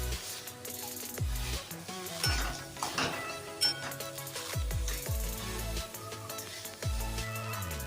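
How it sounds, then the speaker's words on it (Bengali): Mashed boiled potato is stirred into a filling in a pan, with repeated scraping and clinking of a utensil against the metal, irregular strokes over a faint background of music. "সেই আলুটা এর মধ্যে দিয়ে নাড়াচাড়া করে নামিয়ে নেব"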